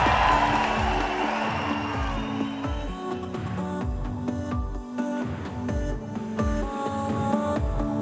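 A pageant audience greets the top 10 finalists of Miss Hooters International 2019 in Lake Tahoe with cheering and applause over loud, pulsing event music with a thumping beat, the crowd noise strongest at the start and then blending into the music.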